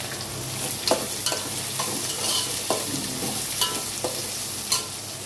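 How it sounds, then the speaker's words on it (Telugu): Onion and green chillies frying in a pan, a constant crackling sizzle broken by regular clacks and scrapes of a stirring spoon, close and alone without speech. "ఇలా ఆనియన్, పచ్చిమిర్చి వేసేస్తున్నాను"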